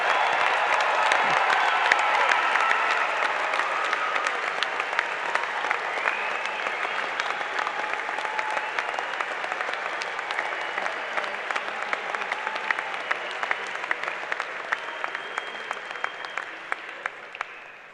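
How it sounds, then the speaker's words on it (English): A large commencement crowd applauds a university graduating class, a long, loud, dense roar of clapping that holds steady and then gradually thins and fades toward the end. "Can we please give a round of applause for the 2023 class of the University of Iowa?"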